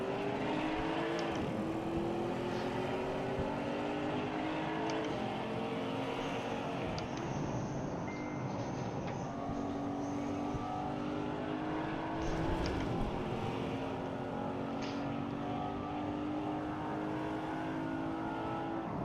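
Race cars at a Legion of Racers Speed Night event brake and accelerate on track, engines droning and revving continuously and loudly, with several cars overlapping and passing through the whole stretch.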